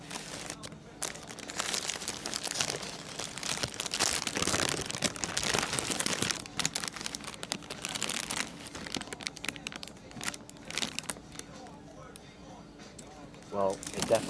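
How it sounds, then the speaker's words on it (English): A 7-Eleven burger wrapper being unwrapped in a shop in Tromsø, Norway, with bursts of close paper crinkling and crumpling that come and go, then ease off toward the end. "Here they have a 7-Eleven burger. So we're gonna unwrap that and see what it's like."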